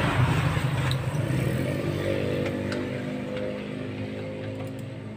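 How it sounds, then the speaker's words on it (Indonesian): An idling motorcycle engine with weak ignition runs with a steady low rumble and faint ticking clatter, close and constant, after starting for a charging-system test. "Coba mas, motor hidupkan mas."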